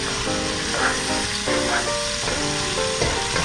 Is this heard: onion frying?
yes